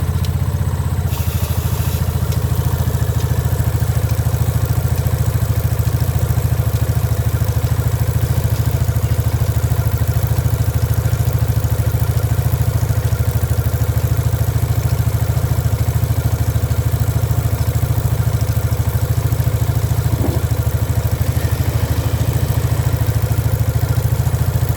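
A motorcycle engine idles steadily and loudly close by, a continuous low rumble with fine clatter that holds throughout without revving.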